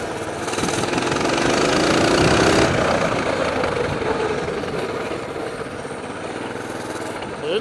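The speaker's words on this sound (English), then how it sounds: "It's supposed to be making that noise. I guess it's a mini bike." A Coleman mini bike engine runs steadily and loudly up close, a rough droning putter that swells slightly early on and then holds through the whole clip, with no speech over it.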